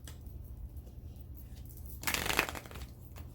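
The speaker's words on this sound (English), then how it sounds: "right, 4 shuffles." After quiet low hum, a short burst of riffling tarot cards rises for about a second, then fades back to near silence.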